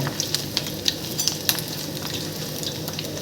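Bora fritters fry in hot oil with a constant hissing sizzle, punctuated by a series of sharp little pops and spatters in the first half.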